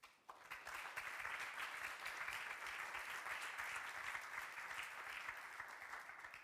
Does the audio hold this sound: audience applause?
yes